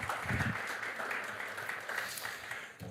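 Audience applause at the opening day of an EdTech hackathon in Estonia, a steady wash of clapping from a crowd held at even loudness for the few seconds, with no talking over it.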